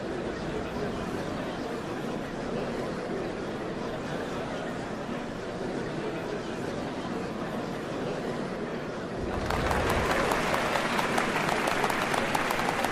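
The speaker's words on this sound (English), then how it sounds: "What a crowd!" In a Final Fantasy XIV cutscene, a large crowd claps and chatters in a steady wash that grows louder and denser near the end, with no clear talk over it.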